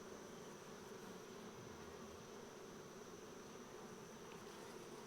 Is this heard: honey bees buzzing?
yes